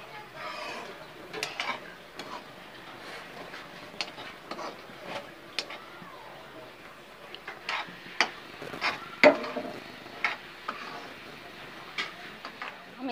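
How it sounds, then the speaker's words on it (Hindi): Semolina poured into sugar syrup in a pan over medium-low heat and stirred for sweet katli: faint, irregular scraping and light clinks of a spoon against the pan, quiet and close, with no talking. "अब इसमें हम रवा डालते हैं।"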